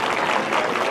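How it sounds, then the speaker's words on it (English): A brief burst of steady crowd applause at a county livestock show for junior showmanship exhibitors, dense clapping at moderate volume. "let's show your junior showmanship exhibitors a round of applause"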